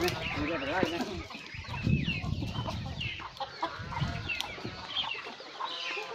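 Chickens on a farm cluck and chatter in scattered bursts at a moderate distance, with some low background rustling and faint voices mixed in.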